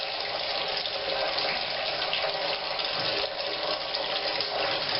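Liquid draining steadily from a beer brewing mash for an imperial porter, a continuous gushing, splashing flow like water running into a vessel, loud and close, with no talking.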